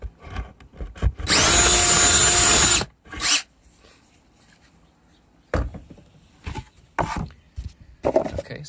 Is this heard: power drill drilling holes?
yes